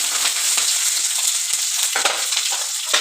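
Green chillies sizzle in hot oil as the tempering for semiya upma, a loud, close crackling fry with bursts of spitting, with no talking.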